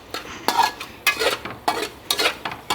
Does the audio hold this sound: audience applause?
no